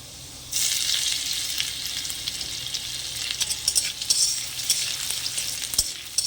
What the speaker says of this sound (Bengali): একটু লাল করে ভেজে নেব রসুন।